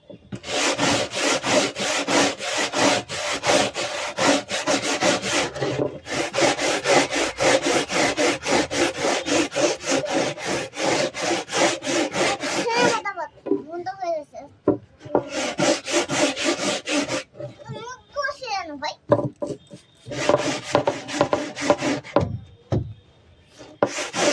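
An old wooden cricket bat is rubbed down with rapid, continuous abrasive scrubbing close to the mic. The rhythmic rasping goes on for long stretches, broken by a few brief pauses and some handling noises.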